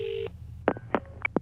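Touch-tone telephone keypad tones as a number to a phone in Ireland is dialled: a sustained tone, then four short separate beeps in an uneven rhythm, close and clear with no talking.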